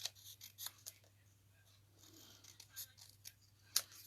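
Paper is snipped by hand with scissors to cut small hill shapes from designer series paper for a Christmas tree card, giving a few quiet, intermittent cuts over a steady low hum.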